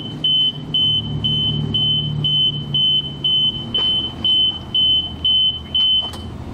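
A transmission fluid exchange machine servicing a 2011 Ford Edge starts up, giving a steady repeating electronic beep at a regular pulse over a low mechanical hum. It sounds close and loud, with no talking.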